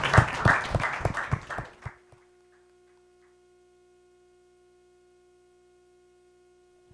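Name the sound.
round of applause for the speakers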